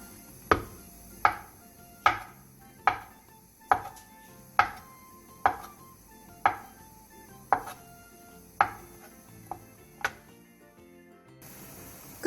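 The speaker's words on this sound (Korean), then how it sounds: "양송이 버섯 2개와 스팸 조금을 얇게 썰어주세요" A knife thinly slices button mushrooms and Spam on a cutting board, about a dozen crisp, evenly spaced chops close by in a quiet kitchen.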